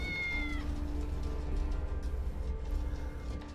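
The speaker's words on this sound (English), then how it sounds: "I'm sure that's a cat meowing." A cat meows once in the video game Tales of the Neon Sea, a brief, clear, falling cry near the start over a low, steady rumbling ambience that continues afterward.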